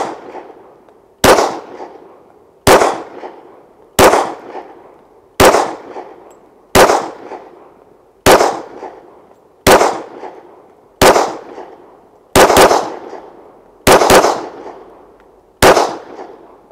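A Smith & Wesson M&P .40 caliber pistol fires about twelve loud, sharp shots at a slow, steady pace outdoors, each crack followed by a brief decaying echo.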